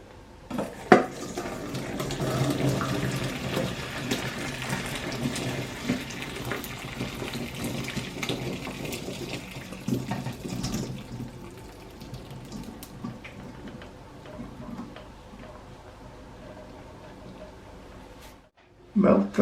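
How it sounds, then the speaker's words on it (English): Vegetable soup stock being strained from a pan into a bowl, a continuous pouring and splashing of liquid with faint clinks of cookware, close up, easing off near the end. "Remove the pan from the heat and strain the stock into a bowl."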